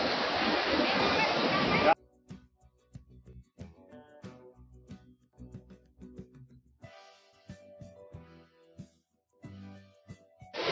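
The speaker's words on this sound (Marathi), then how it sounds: "आणि मस्त आता आम्हाला धबधब्याचा आवाज येतोय" Rautwadi waterfall near Kolhapur roars in monsoon flow as a loud, dense, steady rush for about two seconds. Quieter sections with people talking follow.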